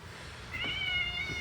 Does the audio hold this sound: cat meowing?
yes